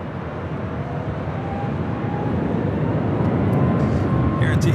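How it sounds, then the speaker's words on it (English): A Dreamliner airliner taxis toward a north side departure on runway 24 left at Los Angeles International Airport, its steady broadband engine roar building slightly over several seconds, with faint talk mixed in. "Dreamliner heading up here for its north side departure at 24 left"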